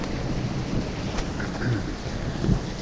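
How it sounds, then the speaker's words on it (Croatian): Steady heavy pelting of hail on surfaces in a village during a thunderstorm, a constant broadband clatter with a low rumble swelling briefly near the end. "led i dalje pada"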